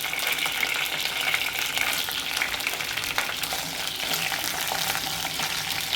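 Eggplant frying in hot oil after curry leaves, with a steady, dense sizzle and crackle close by that continues throughout without any talking.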